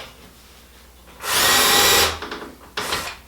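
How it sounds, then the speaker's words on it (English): A power drill boring a pilot hole through a Vix bit while fitting a Blum Compact 38N soft-close hinge to a cabinet face frame: one loud, close whine lasting under a second, then a shorter second burst, no talk. "and drill my pilot hole."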